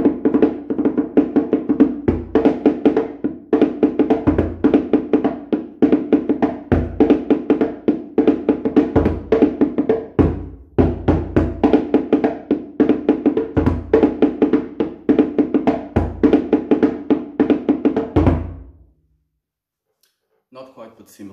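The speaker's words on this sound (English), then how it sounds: "it sounds something like this on the rhythm Guinea Fare on the dununs." Dunun drums play the Guinea Fare rhythm, a dense, steady pattern of booming low strokes and bright bell-like hits for about eighteen seconds before stopping into silence.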